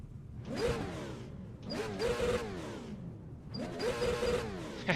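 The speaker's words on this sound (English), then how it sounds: "Well, somebody's revving it up." Race car engines at a NASCAR night race in Nashville rev in three loud surging bursts, each rising and falling with a whooshing pass, over a constant background rumble.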